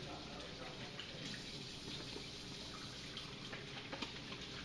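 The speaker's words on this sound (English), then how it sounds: "let me wash my hands again" Tap water runs steadily into a kitchen sink while hands are washed, a continuous soft hiss of flowing water that holds at an even level throughout, close to the microphone.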